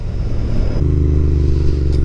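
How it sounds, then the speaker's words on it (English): A Royal Enfield Interceptor 650 engine idles, then its slip-on muffler exhaust settles into a deep, throbbing burble, close and steady, with no talking. "Obviously you'll notice the rowdy exhaust on this thing."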